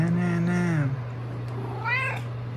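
A house cat gives two clear meows, a longer falling one and then a shorter higher one, close by against a low steady hum.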